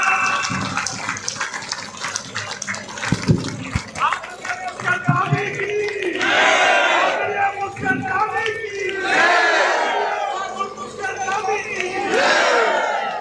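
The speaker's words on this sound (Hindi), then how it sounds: "खड़े होके जोरदार तालियां, मैम वाली तालियां जोरदार जोरदार" A large crowd at a Vijay Sankalp political rally in Samar Gopalpur, Meham, stands and claps and cheers loudly, a dense, sustained roar of applause and shouting that swells in waves and fills the space.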